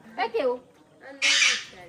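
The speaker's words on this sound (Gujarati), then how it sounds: "મીઠું પોપટ આ બોલે છે" A pet parrot squawks loudly and harshly near the end, after a short spoken word from a person nearby in a family home.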